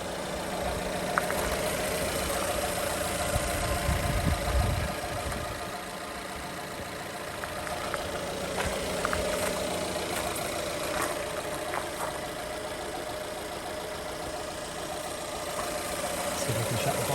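A Dodge Ram 700 pickup with a Fiat 1.4-litre petrol engine idles steadily at close range, a continuous even hum with a few faint clicks and knocks over it and no talk.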